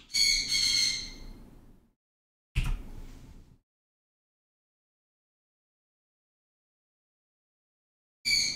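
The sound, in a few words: bird squawking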